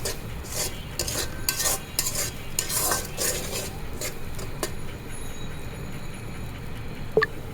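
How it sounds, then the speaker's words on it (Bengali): A black cumin bharta being stirred in a pan over low heat, with repeated metal scrapes and clinks in bursts over a soft background sizzle, ending in a sharp utensil tap. "এখন এটা ভালো করে নেড়ে চেড়ে দিতে হবে"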